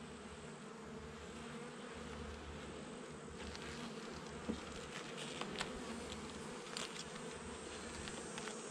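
Honey bees buzz continuously around an opened hive during an inspection, a soft, even drone close by with occasional louder passes of individual bees near the microphone.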